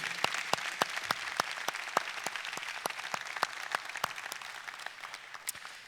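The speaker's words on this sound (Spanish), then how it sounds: "les damos un fuerte aplauso a todos ellos" Applause from a church audience honouring graduating young people and their parents: many separate sharp claps ring out in a loose, sparse rhythm for several seconds with no talking.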